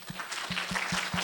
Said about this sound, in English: let's give Carolyn a round of applause